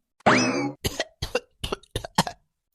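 An old man coughs hard, starting with one long, rasping cough, then five shorter harsh bursts in quick succession, close and loud with brief silences between them.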